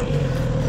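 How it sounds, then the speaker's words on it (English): A Kawasaki Z900RS four-cylinder motorcycle engine holds a steady, smooth drone at a constant pitch, loud and close, with no voices over it. "I love the sound of a 4-cylinder jack bike"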